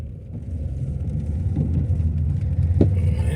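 Ford 302 V8 engine idling with a steady low rumble, a dense low-pitched drone that holds continuously, mixed with gusting wind noise and a brief sharper knock near the end.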